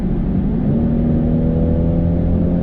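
Inside a BMW X3 30e cruising at about 120 km/h, the sound generator plays a synthetic engine tone. It is a steady, even hum with a constant low pitch and a faint road rumble beneath it, and no voices are heard.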